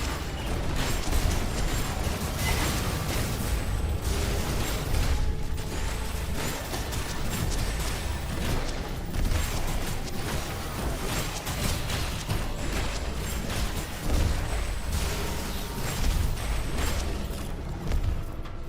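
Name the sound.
Radiant Explosion and Black Hole spells exploding in a video game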